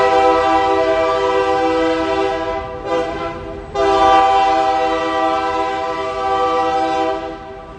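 A train rumbles past close by, its loud sustained horn blaring in long tonal blasts with a brief gap near the middle, then sounding again until it fades.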